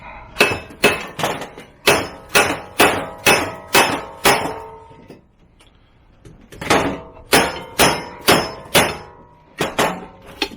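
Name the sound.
hammer striking a seized truck door part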